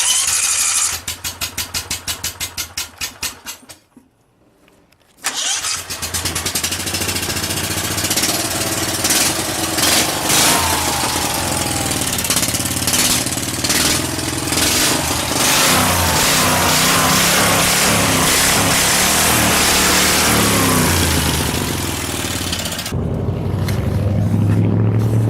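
A V-twin engine on a homemade drift trike sputters through several rapid cranking pulses, drops out briefly, then catches and roars into a loud, sustained rev with rising and falling throttle, close and harsh throughout.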